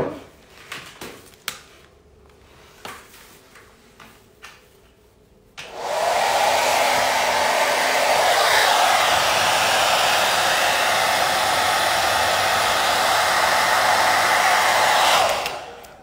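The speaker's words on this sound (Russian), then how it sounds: "вот такой обычный фен" A few light clicks and handling sounds come first, then a hair dryer switches on and blows with a loud, steady whoosh for about ten seconds before cutting off.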